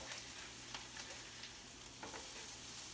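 Onions sautéing in a skillet heated to about 275–300 degrees, turning brown, give a steady close sizzle and crackle with faint spoon stirs, no talking.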